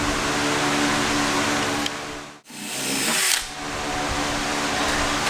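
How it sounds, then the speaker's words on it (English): A power drill fitted with a 1/8-inch bit bores through a Jeep JK fender during a Bushwacker flare install: a loud, continuous whine that cuts out briefly, then spins back up and keeps drilling. "We're gonna drill it with an 1/8."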